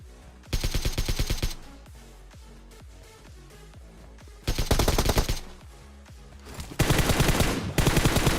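Automatic gunfire in PUBG while the player jumps and shoots: three loud bursts of rapid shots separated by quieter stretches with faint footsteps and ambient game sound, no talk.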